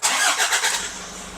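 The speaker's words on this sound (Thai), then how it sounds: "เดี๋ยวลองสตาร์ทเครื่องยนต์พร้อมกันเลยนะครับ" A 2018 Toyota Commuter 3.0 van engine cranks in quick pulsing turns, fires on the first try and drops into a smooth, steady idle, heard close and alone without talk.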